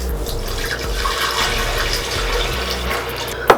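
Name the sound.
pouring filtered water into a high-speed blender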